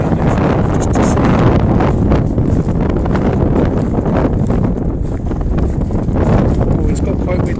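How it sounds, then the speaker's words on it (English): Wind gusts along a coastal path at low tide, a loud continuous rumble battering the microphone from start to finish while a voice talks underneath. "Oh, it's got quite windy."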